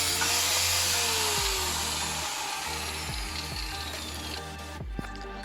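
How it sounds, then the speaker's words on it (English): An angle grinder cuts into a car tie rod end on a BMW E46 drift car, giving a loud, continuous high whine that fades slightly, with a few knocks and clunks near the end. "we're just going to get the angle grinder out and give that a bit of a tickle up"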